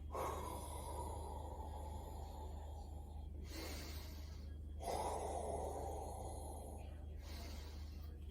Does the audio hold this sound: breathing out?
yes